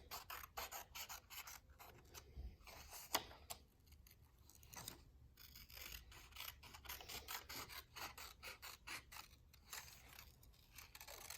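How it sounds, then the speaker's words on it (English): Repeated crisp snips and rasping cuts of scissors through paper, quiet and close, in an irregular rhythm with brief pauses between strokes. "Cut just a little slit in the middle, just enough to get your scissors in, and then cut along the edges"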